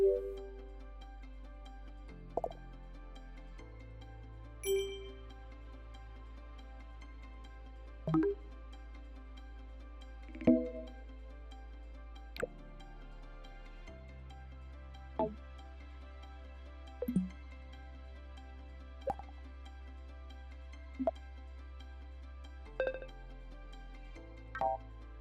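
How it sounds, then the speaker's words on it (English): A series of macOS Big Sur alert sounds, short separate chimes and blips, each a brief tone with its own pitch, sounding one after another over a low steady hum. "And you get all new, yes indeed, all new alert sounds."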